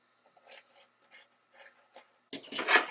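A pen drawing straight lines across a cardboard circle, a few short, quiet scratchy strokes separated by pauses, then a louder, denser scraping burst at the end.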